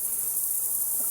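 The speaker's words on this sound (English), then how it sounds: "There are thousands of bees in these weeds. Whatever these weeds are around this pond, there's bees pollinating everywhere." Thousands of bees pollinating weeds around a farm pond make a continuous high insect buzz, fairly loud and unbroken, heard alone without speech.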